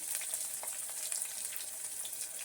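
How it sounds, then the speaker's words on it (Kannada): Onion, tomato and curry leaves fry in hot oil in a pan for cabbage pulao, a steady close sizzle with a soft crackle running throughout and no talk. "ಇವಾಗ ಇದಕ್ಕೆ ಈರುಳ್ಳಿ, ಟೊಮೊಟೊ ಮತ್ತು ಕರ್ಬೇವಿನ ಸೊಪ್ಪು ಎಲ್ಲನೂ ಒಂದೊಂದಾಗಿ ಆ್ಯಡ್ ಮಾಡ್ಕೊಳ್ಳೋಣ"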